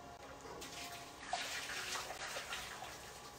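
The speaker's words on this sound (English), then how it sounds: "So we are going to go ahead and drain them." Water pours and splashes steadily into a sink for a few seconds as boiled potatoes are drained, a rushing, hollow stream with no voices.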